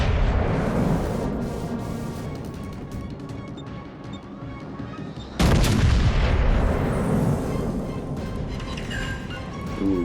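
Heavy naval gunfire and shell impacts on a Yamato battleship in World of Warships, loud sustained rumbling booms with a sharp heavy blast about halfway through.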